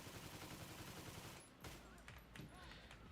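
Rapid automatic gunfire from a video game gun with heavy recoil, a dense burst of shots for over a second that stops abruptly, followed by scattered quieter game effects.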